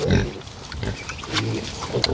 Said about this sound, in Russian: Это козел так постанывает.